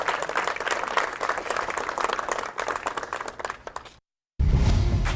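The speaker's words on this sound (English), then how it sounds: "You guys can clap." An audience claps steadily for several seconds, a dense wash of applause that stops abruptly, followed by a brief burst of noise.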